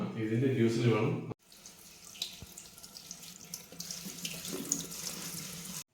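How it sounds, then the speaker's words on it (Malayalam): Water runs steadily from a kitchen tap as moringa leaves are rinsed underneath, a continuous splashing stream after a brief louder burst, moderately close, with no talk. "നമ്മുടെ മുരിങ്ങയില വൃത്തിയാക്കി വെച്ചിട്ടുണ്ട് ഇനി ഇത് കഴുകിയെടുക്കണം"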